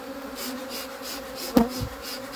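Honeybees from an opened hive during a split hum in a steady, close buzz throughout, with one brief louder thump or knock partway through.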